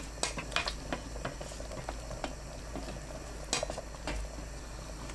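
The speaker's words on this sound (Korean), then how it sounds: "저어가며 끓입니다." Red bean porridge boils in a pot while a spoon stirs it, making soft bubbling with scattered scraping and knocking clicks at moderate level.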